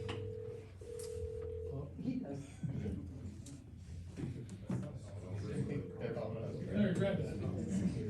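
Telephone speed-dial tones at a retirement luncheon, a short steady electronic beep pattern near the start, followed by room chatter and clatter.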